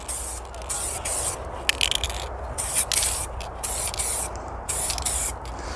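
Short hissing bursts of spray paint are aimed at the spokes of BMW alloy wheels, several quick close passes separated by brief pauses.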